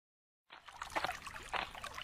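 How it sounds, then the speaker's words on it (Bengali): In a cartoon, water trickles and splashes softly as vegetables are washed. It starts after half a second of silence and stays faint, uneven and alone. "তাহলে আমি বরং সবজিগুলো ধুয়ে আনি।"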